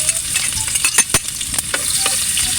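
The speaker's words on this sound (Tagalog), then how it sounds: "Tapos gigisa na natin to sa bawang mamaya" Kasag crab sautés with garlic in a pan, giving a close, lively sizzle broken by sharp scrapes and clacks as it is stirred.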